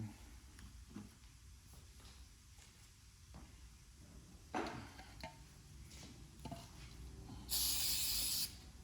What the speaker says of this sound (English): it's just gonna be a little bit of brake clean, just to get the oil off of them